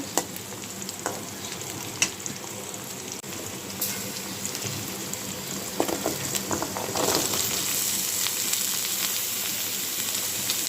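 Pumpkin pieces fry in hot oil with nigella seeds, green chili and onion, making a steady close sizzle with stirring scrapes that grow louder and denser toward the end.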